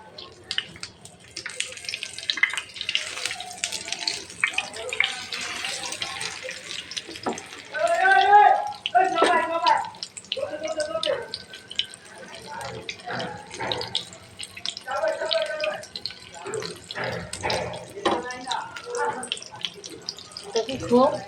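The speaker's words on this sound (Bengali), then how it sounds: "আমি চামচ দিয়ে এটাকে একটু উল্টিয়ে পাল্টিয়ে ভেজে নিচ্ছি।" Bread pieces with egg sizzling in a pan, frying steadily while being turned and stirred with a spoon, scraping clinks scattered through the crackle, with a voice talking over it.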